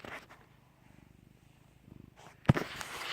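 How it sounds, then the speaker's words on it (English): A low, rhythmic purr pulses close by in soft bursts, interrupted near the end by a sharp rustling thump. "This cat is going to town purring."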